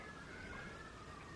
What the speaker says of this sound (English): fire alarms, an ambulance